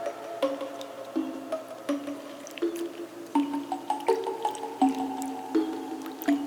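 Pumpkin seeds stirred in a bowl of salted water, soft wet squishes and drips in an irregular rhythm, close and fairly quiet with no talk.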